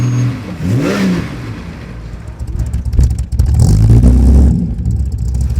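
Rebuilt 179 hp engine bored out to 202 in a ute, running on straight gas, revs loudly and up close, rising in bursts with a deep mechanical roar and no talk over it.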